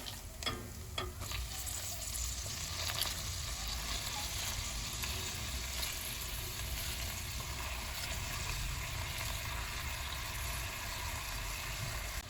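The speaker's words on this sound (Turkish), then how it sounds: "Yemeğimizi şöyle bir karıştırıyoruz." A pan of spinach root dish sizzling steadily while it is stirred, a dense continuous fry with a few scraping knocks near the start, close and even in level throughout.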